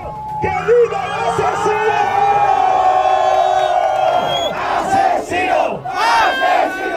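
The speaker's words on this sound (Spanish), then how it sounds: "Nunca había escuchado que se grite la palabra asesino con tanto orgullo" A loud crowd at a Mexican freestyle rap battle league event chants and yells in unison, sustained cheering and shouting with rising whoops and swells throughout.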